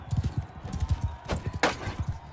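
Horse hooves clip-clop in a steady, quick rhythm during a mounted tournament battle in Mount and Blade II: Bannerlord, with a sharp, bright impact sound near the end.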